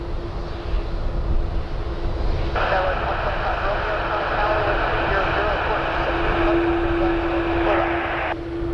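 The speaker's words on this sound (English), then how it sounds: "Dreamliner to Vancouver, Air Canada 127, 2025 Employee Excellence livery" An Air Canada Boeing 787 Dreamliner lines up for departure on runway 23 at night, its engines giving a steady, fairly distant jet whine and rumble that swells midway, with a voice talking over it.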